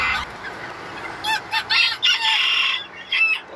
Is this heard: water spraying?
no